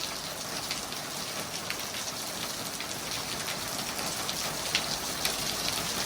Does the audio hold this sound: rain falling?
yes